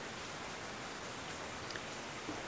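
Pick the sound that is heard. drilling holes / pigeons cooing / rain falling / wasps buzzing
rain falling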